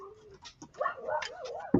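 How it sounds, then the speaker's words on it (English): Neighbor's dogs under a window give short whimpering yelps and whiny barks, a few quick rising cries followed by a sharper bark at the end, fairly close and without talk over them. "Sorry about the dogs."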